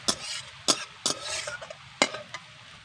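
Onions softening in a pan, with a few sharp spatula scrapes and clinks against the pan over a quiet sizzle, spaced irregularly across a few seconds.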